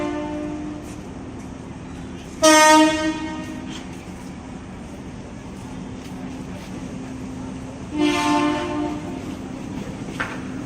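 A commuter train departs Manggarai station in Jakarta, with two loud horn blasts over a steady rumble of rolling stock and station ambience, heard from the platform.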